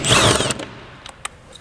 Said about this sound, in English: we're going to get our T30 and remove a whole bunch of T30s